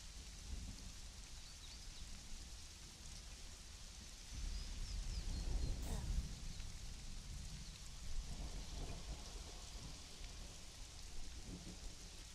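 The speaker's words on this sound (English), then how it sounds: "and then it started raining. The heck, I'm going to enjoy the rain." Steady rain falling on surfaces in the video game Conan Exiles, with thunder rumbling through the middle of the downpour; a continuous, moderately loud wash of rainfall with no talking.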